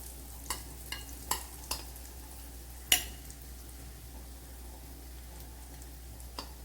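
Hot oil is ladled over an egg snack frying in a pan in a Kerala home kitchen, producing a soft, steady sizzle broken by a few sharp clicks and scrapes of the ladle against the pan.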